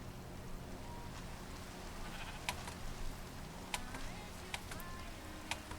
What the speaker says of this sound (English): Wow, look at all these sheep.